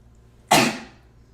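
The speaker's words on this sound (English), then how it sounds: "I'm going to sneeze in about 2 seconds." One loud, close sneeze bursts out sharply from a person during an art stream and trails off quickly into a quiet room.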